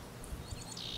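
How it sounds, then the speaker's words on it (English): Birds calling outdoors, several bright chirps and a longer tweeting call near the end, fairly close over a steady low background hum. "We got some mother birds yelling at their children right now on Mother's Day."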